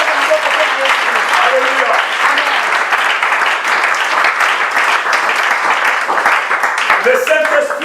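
A church congregation applauds and cheers for Jesus in loud, sustained, dense clapping mixed with shouts, while a voice calls out over the crowd.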